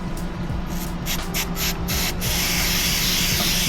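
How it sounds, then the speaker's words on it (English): Aerosol metal coating sprayed liberally onto an RC car chassis, Hobao buggy, a steady close hiss with a few short bursts before settling into one continuous spray. "So I'm just going to spray it on this"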